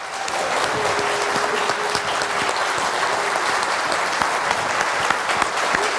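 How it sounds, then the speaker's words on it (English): A church congregation at a celebration service applauds continuously, dense and loud clapping filling the space from start to finish. "let's give them one last round of applause for all of them"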